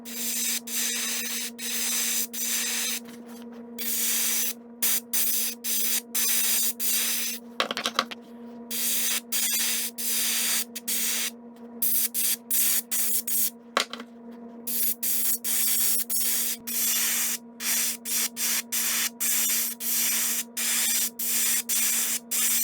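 Opaque white paint is airbrushed onto the seams of a wooden lipless crankbait in long, steady hissing bursts with brief pauses between them, close and continuous under a faint constant hum.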